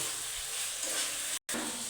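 Fried potatoes being sautéed in oil with spiced chicken, a continuous loud sizzle and hiss with a momentary silent gap near the end.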